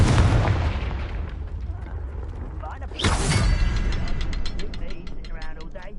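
A Confringo fire spell cast in Hogwarts Legacy: an explosive, booming blast with a heavy low rumble, then a second sharp burst around the middle followed by rattling, metallic mechanical clicks as the effect fades.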